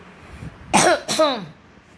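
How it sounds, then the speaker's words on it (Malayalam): Two harsh coughs in quick succession, close and fairly loud, with near silence around them. "കുറച്ച് ചുമക്കൊണ്ട് കേട്ടോ"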